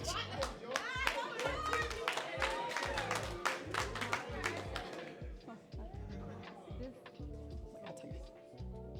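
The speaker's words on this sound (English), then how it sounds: "Give George another round of applause." A crowd at a graduation ceremony for the Baltimore Brothers claps briskly for a graduate, with rhythmic hand claps under voices and cheering that thin out toward the end.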